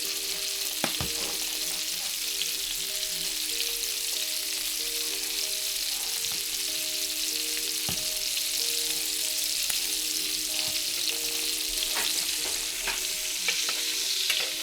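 Vegan meatballs sizzle steadily in a tilted pan while being basted, a continuous close fry hiss with occasional sharp spoon taps and scrapes, no voices.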